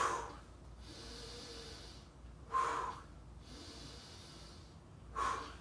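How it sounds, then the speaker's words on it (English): Heavy breathing after an upper-body workout, three loud, close, rasping breaths spaced a couple of seconds apart, with no talk. "I'm breathing pretty hard."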